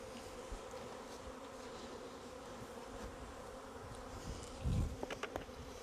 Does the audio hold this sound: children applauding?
no